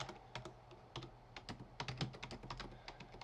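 Steady typing on a computer keyboard, a close run of soft, quick key taps at an uneven rhythm. It is fairly quiet and no one speaks.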